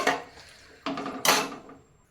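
A spoon stirs ghee rice with salt in a metal pot, giving three distinct clinks and scrapes, close and fairly loud, the last the sharpest, with quiet gaps between and no talking.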